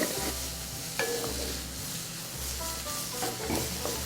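Onions sauté in bacon grease in a pan for southern squash and onions, a steady close sizzle with intermittent scraping stirs and clinks of the utensil, no voices.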